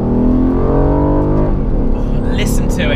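A new Aston Martin Vantage with optional carbon ceramic brakes pulls hard at full throttle, its engine note climbing steadily, then shifting and settling, with sharp high exhaust crackles near the end; a voice talks over it.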